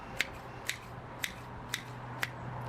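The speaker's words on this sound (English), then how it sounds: "Garden shears." Garden shears snip through a bucketful of seaweed, five crisp evenly spaced cuts about half a second apart, close and fairly quiet over a low background hum, with no talking.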